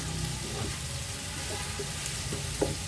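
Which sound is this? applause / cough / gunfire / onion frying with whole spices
onion frying with whole spices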